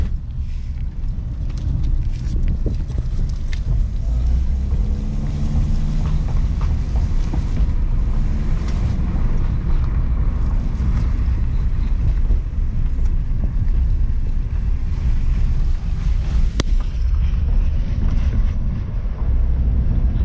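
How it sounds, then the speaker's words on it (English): Steady engine hum and road rumble from a 1999 Toyota RAV4 with shift solenoid transmission faults, heard from inside while driving, with constant wind noise and no talking. "The real test is actually taking it for a test drive."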